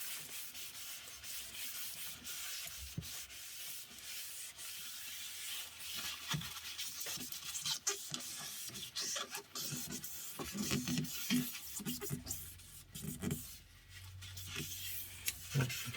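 Beech wood being sanded by hand, a steady close rubbing rasp that runs continuously with small variations in stroke, moderately quiet and with no voices.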